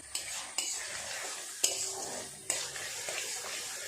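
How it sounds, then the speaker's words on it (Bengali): Turmeric, chilli powder and salt with a splash of water being stirred and sautéed in a pan, a steady sizzle broken by several distinct scrapes and clinks of the spatula against the pan. "খুব ভালো করে মশলাটাকে কষিয়ে নেব।"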